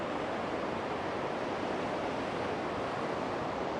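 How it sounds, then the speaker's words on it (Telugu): A large waterfall in Switzerland pours down in a steady, broad roar of falling water, continuous and even with no pauses. "ఇవన్నీ వాటర్ వెళ్ళేసి అక్కడ డౌన్ ఫాల్ అవుతున్నాయి"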